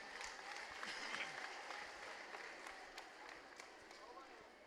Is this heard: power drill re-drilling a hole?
no